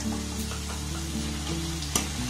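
Gram flour (besan) boondi fry in hot oil, giving a steady close sizzle and crackle over a low hum, with a brief sharp clink near the end.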